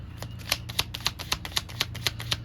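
Tarot cards shuffled by hand in a quick, steady run of crisp riffling snaps, about four per second, close and clear over a low background hum.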